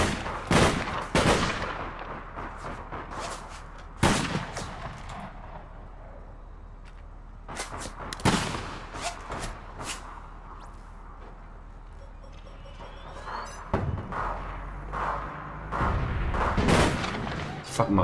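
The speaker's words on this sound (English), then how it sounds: "They're still shooting over my head." Gunfire rattles through a street firefight in APB Reloaded, with repeated loud bursts and sharp shots arriving in clusters, some overhead, against a low engine-like drone and intermittent background noise.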